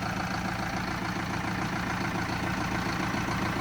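A new Massey Ferguson 5711 tractor's diesel engine idles steadily nearby, a constant low chugging rumble with no change in pace and no voices.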